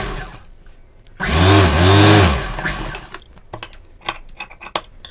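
Sewing machine stitching a high-neck blouse collar: a loud burst of motor whirring and needle chatter runs for about a second, then stops, followed by scattered handling clicks and rustles of fabric.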